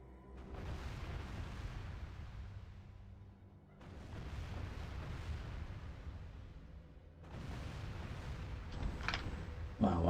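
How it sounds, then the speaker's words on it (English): Catapults in Medieval 2 Total War Kingdoms hurling stones at a castle wall, three heavy booming volleys that rumble and crash, with battle noise continuing between impacts. "Okay, catapults, fire at those now."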